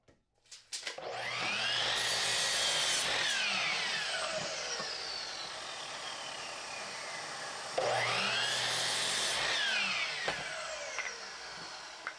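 A power saw rips a 2x4 pine board lengthwise in two long passes, each a loud sustained whine and rasp that rises as the blade bites and fades as the cut finishes.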